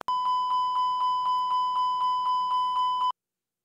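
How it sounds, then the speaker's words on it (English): Airbus continuous ringing chime warning sounding during an unstable approach: a rapid, evenly spaced train of about a dozen bright electronic chime pulses at a steady loud level, then abrupt silence. "you will get the CRC, the continuous ringing chime warning"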